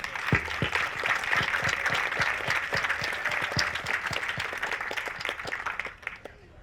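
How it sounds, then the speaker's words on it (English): An audience at a remembrance event on boarding schools gives sustained applause for readers and researchers, a dense, even patter of many hands that holds steady and trails off at the very end. "How about a round of applause for all of them?"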